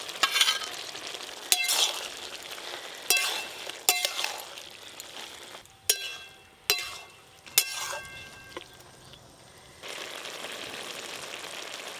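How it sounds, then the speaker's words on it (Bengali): Fried prawns simmering with bottle gourd in a pan: a soft steady bubbling and sizzle, broken by sharp metallic clinks and scrapes of a spoon against the pan, with the simmering growing fuller toward the end. "এবার ভেজে রাখা চিংড়ি মাছগুলো দিয়ে আর একটু ভালো করে ফুটিয়ে নেব"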